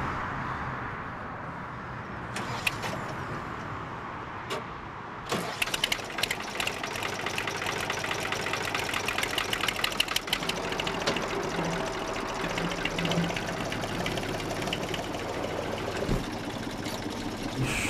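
A car engine runs while driving home from an asparagus farm: a subdued rumble at first, then a steady, louder drone with rattly mechanical texture from about five seconds on, with no talking.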